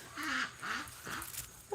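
A pet duck quacks three times in quick succession, close by and fairly loud, each call a short nasal honk as she begs for food.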